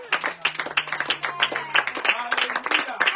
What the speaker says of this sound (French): Est-ce que tu peux acclamer encore mieux que ça?